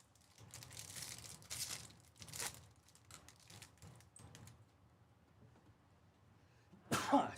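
A single sharp sneeze bursts out near the end, after several seconds of crinkling and tearing from wrappers being opened during a baseball card break.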